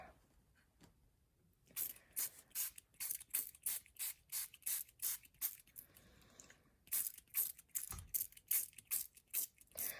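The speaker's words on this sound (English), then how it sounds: "And these definitely need to be sprayed, some of them." Repeated short bursts from a spray bottle misting liquid onto a surface to loosen scattered colored bits, about a dozen quick hissing squirts in irregular rhythm, close and fairly loud with brief pauses between.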